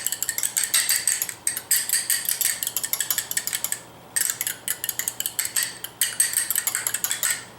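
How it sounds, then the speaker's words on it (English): An egg whisked with a fork in a small bowl: rapid, rhythmic metallic ticking of tines against the bowl in quick bursts, with two short pauses, close and fairly loud. "And then I can whisk it up with my fork and get it nice and even before I add it."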